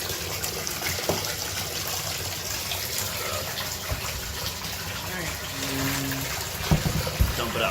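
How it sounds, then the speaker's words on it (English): Water gushing steadily over brass cartridge cases being rinsed after wet tumbling, a continuous close splash with occasional clinks of metal and a person talking over it. "Rinse it, rinse it, rinse it so you're not seeing any more soap coming out."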